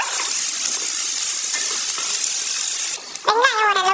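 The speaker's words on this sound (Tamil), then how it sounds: "இந்த வெங்காயம் கொஞ்சம் அந்த பச்சை வாடை போற வரைக்கும் வதக்கிடலாம்." Onions sizzle in a pan for mutton fry, a steady loud hiss that breaks off near the end as a voice starts speaking.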